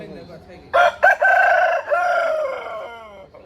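An Aseel rooster on a farm near Nellore, Andhra Pradesh, gives one loud, close crow, a sharp opening burst followed by a long drawn-out call that fades away.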